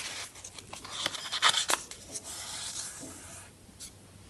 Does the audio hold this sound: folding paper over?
yes